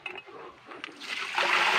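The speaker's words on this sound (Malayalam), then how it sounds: "അച്ചു ആണെങ്കിൽ കുളത്തിൽ വെള്ളം ഒഴിക്കുകയാണ്" A bucket of water being poured into a backyard pond, a brief splash that swells into a steady rushing pour at close range.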